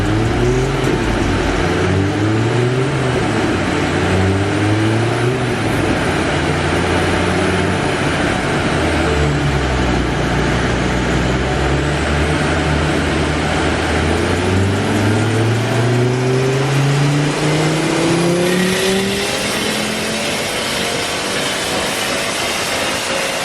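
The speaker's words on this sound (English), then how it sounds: "right now we're going to watch some of the dyno runs" A loud Stage 3 tuned VW Golf R engine revs repeatedly on a dyno, rising and falling in pitch with long sweeping climbs to a high scream, continuous and close for over twenty seconds.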